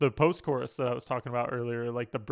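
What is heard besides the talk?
No everyday noises stand out.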